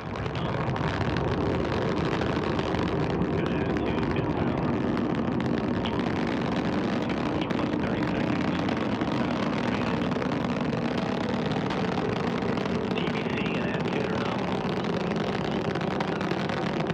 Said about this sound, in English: Got engines at full power. Attitude and TVC are nominal. Core pressures are nominal. Liftoff confirmed.